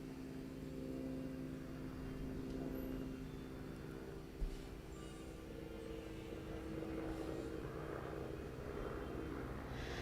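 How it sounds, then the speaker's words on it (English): Airplane passing overhead, a steady droning engine hum that holds throughout at moderate loudness, with no voices heard. "Sorry, there's an airplane."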